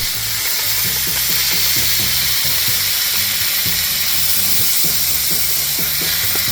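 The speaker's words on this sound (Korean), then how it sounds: "지글지글 익어가는 순간 카메라로 잡아두면 정말 먹음직스럽습니다" Loud, steady sizzling of a ribeye steak on a grill while camping in a canyon fills the whole clip, a dense hiss with small bubbling pops, close up and with no voices.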